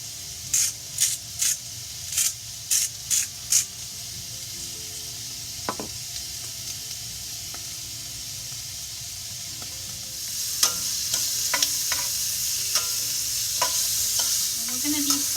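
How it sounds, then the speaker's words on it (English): Onions sizzle steadily in a hot pan, with a quick series of scraping stirs at the start and scattered clicks of a utensil later. "We're going to be sautéing this for 5 to 8 minutes."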